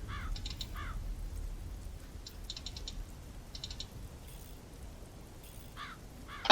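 Raven caws from the video game Black Mirror 2, several short harsh calls in spaced bursts over a low ambient game hum, moderately close, ending with a sudden loud burst.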